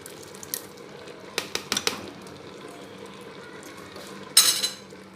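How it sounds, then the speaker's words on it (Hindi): A spoon clinks against a pan while whisked yogurt is stirred into black chana chaat, several light taps in the middle and a louder scrape near the end over a quiet background. "दही भी डालने के बाद इसको अच्छी तरह मिक्स कर दें।"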